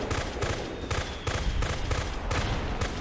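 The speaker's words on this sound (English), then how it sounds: "You have the extremely fast rate of fire and the kind of long recoil like" Rapid automatic gunfire rattles continuously in Metal Gear Solid 4, a dense, loud fusillade of shots with heavy low-end punch and no pauses.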